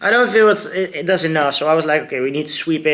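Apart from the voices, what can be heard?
No distinct noise like a dog, phone or traffic.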